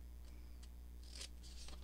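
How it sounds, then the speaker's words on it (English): Scissors snip paper while a pocket is trimmed for a policy envelope craft, a few quiet, crisp cuts in a near-silent room. "I just need to cut it down"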